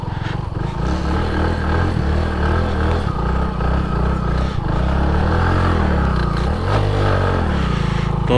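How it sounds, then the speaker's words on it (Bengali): A motorbike engine drones loud and close while it climbs through deep sand on a riverside beach, the pitch rising and dipping as the rider works the throttle, with faint scraping underneath. "দেখি বাইক নিয়ে বালি দিয়ে ওঠা যায় নাকি।"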